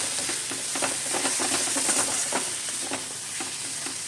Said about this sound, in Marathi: आता मिक्स करू दाण्याचं कूट टाकल्याने